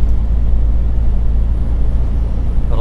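Truck engine droning steadily after an upshift on a long-haul run, a continuous low rumble with road noise and no break, sitting close and fairly loud throughout.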